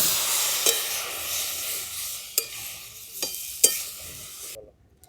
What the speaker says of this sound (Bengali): দেখুন সামান্য একটু জল দিয়ে এটাকে আমি কষিয়ে নেব